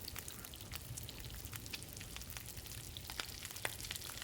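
Raw venison sizzles and crackles over a campfire in The Long Dark, a quiet steady hiss peppered with small sharp pops.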